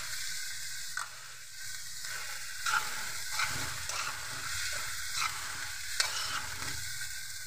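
Shrimp paste (bagoong) and shrimp sautéing in a pan for ginisang ampalaya, a steady close sizzle and frying hiss with soft utensil scrapes and stirring clicks throughout, no talking.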